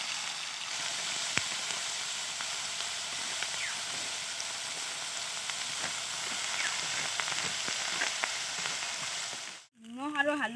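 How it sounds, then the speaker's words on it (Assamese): Small fish, rubbed with salt and turmeric, fry in hot oil for an Assamese-style curry: a steady, close, dense sizzle that holds unbroken with faint crackles and ends abruptly. "নিমখ আৰু হালধি দি মাছখিনি ভালদৰে গুৰি কৰি ভাজিম"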